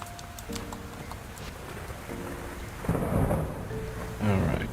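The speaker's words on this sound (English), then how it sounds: "The sound of thunder woke me this morning as well." Thunder rumbles over steady rain during a storm in the farming video game Fields of Mistria, with a louder roll near the middle and another swell at the end, with no talking.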